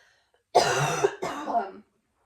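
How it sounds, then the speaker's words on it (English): Two harsh, rough coughs close by, one right after the other, with silence before and after. "you're just gonna hear me cough sometimes."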